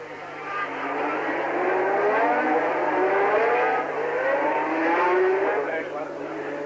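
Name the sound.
Formula One race cars at Monaco Grand Prix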